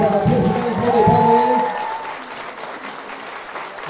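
Wedding guests clap loudly for the bride and groom's first dance in a short, dense burst that fades after a couple of seconds as voices take over.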